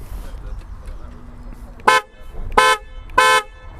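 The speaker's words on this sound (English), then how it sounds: "it's a loud horn. It pretty much sounds like a car horn" Three loud honks from the horn of a 2021 BMW R1250 RT motorcycle, each about half a second long, sounding close by over low background rumble. The tone is like a car horn.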